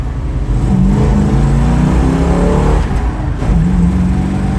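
A 1971 Plymouth Duster Twister heard from inside as it drives, the engine note rising then dropping at shifts through the gears, loud and continuous over road noise.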